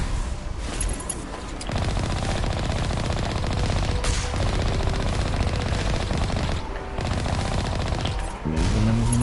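Turret firing in the video game Mass Effect, a dense, sustained burst of rapid automatic gunfire that barely lets up, loud and continuous with brief dips.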